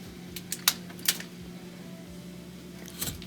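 Flathead screwdriver prying metal clips off a washing machine motor: a few sharp metallic clicks and snaps spaced irregularly over a steady low hum, close and fairly quiet.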